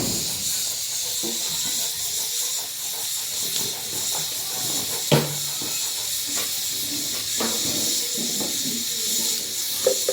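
A pressure cooker in a home kitchen lets off a continuous hiss of steam that holds steady throughout, with a few soft knocks and household noises and brief voices in the background.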